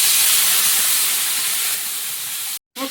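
Water poured into a hot pan of spiced fried potatoes and pickle masala hisses in a loud, steady steam rush that fades slightly before cutting off abruptly.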